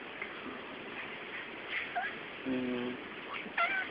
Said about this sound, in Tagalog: Ito yung una namin pusa.